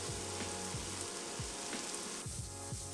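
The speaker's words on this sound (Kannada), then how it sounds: "ನೆಕ್ಸ್ಟ್ ಕ್ಯಾಪ್ಸಿಕಮ್ನು ಇದೇ ಥರನೇ ಫ್ರೈ ಮಾಡ್ಕೊಳ್ತಾ ಇದ್ದೀನಿ." Capsicum sizzles and crackles steadily in a hot pan, with a continuous frying hiss and occasional light stirring clinks, close and moderately loud with no voices.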